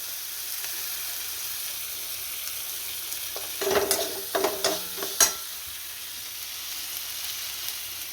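Pointed gourd and masala sputtering in hot oil, with a steady low sizzle and a short burst of stirring and scraping partway through, close up and with no voices.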